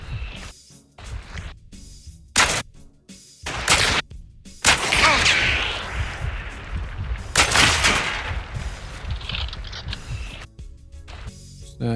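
Rapid, loud gunfire with bleed rounds in the video game Hunt: Showdown, a burst of sharp shots and cracks interspersed with rustling and clatter, close and aggressive with brief pauses between volleys.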